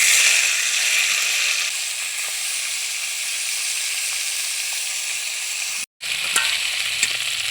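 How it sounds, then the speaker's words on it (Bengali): Tilapia fish frying in hot oil in a wok, a steady, loud broadband sizzle that runs almost unbroken, easing slightly after the first moments, with a brief gap and a few small clinks or pops near the end. "মাছগুলো একে একে করে ভেজে নিব"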